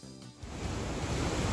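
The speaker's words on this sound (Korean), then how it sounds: "커피색 물살이 굉음과 함께 산산이 부서집니다" The roaring torrent of Iguazu Falls on the Brazil–Argentina border, swollen brown floodwater after record rain, comes in as a dense, steady broadband rush that swells in after a brief quieter moment and holds loud and unbroken.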